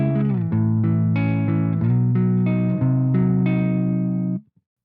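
An electric guitar on its neck pickup plays a clean tone through an amp plugin, several sustained strummed chords ringing loud and close in succession before a sudden stop.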